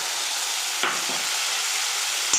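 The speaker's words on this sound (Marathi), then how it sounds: "चांगली तेलामध्ये परतून घ्यायची डाळ मसुरीची" Soaked masoor dal being sautéed and stirred in hot oil in a pan, giving a steady close sizzle with a couple of brief scraping stir strokes and no talking.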